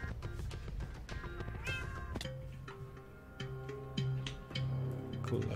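A cat meows in the Resonant Rise Minecraft modpack, a few harmonic mews over steady game music and ambient tones, fairly clear and mid-distance.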